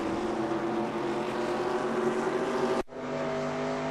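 Race car engine from the game NR2002 at Phoenix drones loud and steady at high speed, with a sharp cut and quick return near the end, no voices.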